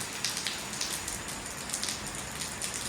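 Heavy rain pours down at night, a dense, steady hiss of drops striking surfaces close by, continuous and even with no voices.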